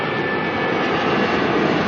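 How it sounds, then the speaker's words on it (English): A Boeing Dreamliner jet arriving at Auckland Airport, a steady broadband engine roar that holds loud and even throughout with no speech over it. "Beautiful Dreamliner coming on in."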